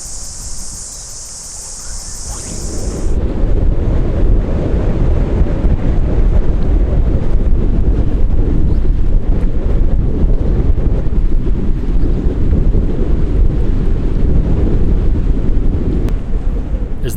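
Strong wind gusts across a river in New Zealand during fly fishing, a loud, steady roar and buffeting rumble that builds after a quieter first few seconds and carries on without a break.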